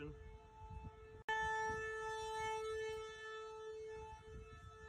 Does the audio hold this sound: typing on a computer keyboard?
no